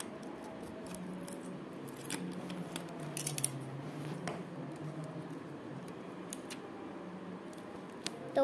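Scissors cutting through thick cellophane tape during a plastic sticker-organiser craft, with faint, scattered crisp snips against a quiet room.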